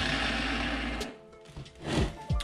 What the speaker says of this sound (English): All I'm gonna do is take my angle grinder and just trim this blade down a little bit at the end